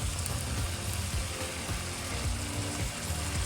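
Tomatoes drop into a pan of onion masala frying in oil for naati-style chicken biryani, giving a steady, dense sizzle with faint clattering throughout and no talk.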